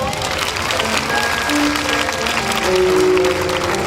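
Applause in a church congregation, steady dense clapping throughout with a few sustained tones from music or voices underneath.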